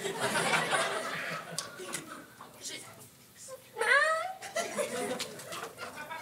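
A performer in a live improv theatre match uses their voice to imitate a cat, giving one rising, whiny meow midway through, with chatter and audience laughter around it.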